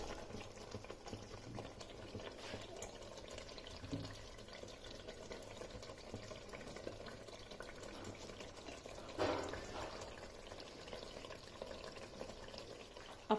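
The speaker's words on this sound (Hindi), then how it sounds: "अब यहाँ पर इसमें ये चिकन ऐड कर देना है जो मैंने मैरिनेट करके रखा था।" Marinated chicken sizzles softly in a pan for a Punjabi-style chicken curry. A steady, faint hiss of frying with a few small bubbling bursts runs throughout, and no voices are heard.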